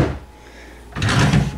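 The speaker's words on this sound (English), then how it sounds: "Really hard drawers to open and close." A stiff motel room dresser drawer in Penticton, BC slides shut with a short, close scraping thud after a brief quiet pause, the whole action lasting about a second.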